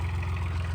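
A homemade 26 hp tractor engine idles with a steady, loud, low rhythmic chug and fast, even firing pulses close by, with no voices.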